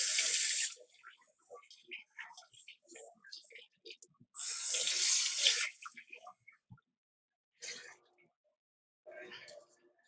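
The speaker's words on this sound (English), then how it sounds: "let me wash my hand." Tap water runs in short splashing bursts as hands are washed while cooking beetroot chicken, loud gushes separated by quiet gaps and small clatters.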